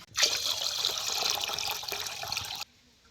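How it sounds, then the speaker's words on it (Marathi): Water is poured into a cooking pot in one steady splashing stream that starts abruptly, runs for about two and a half seconds and then stops, close by and without talk. "आता याच्यात पाणी ओतायचं."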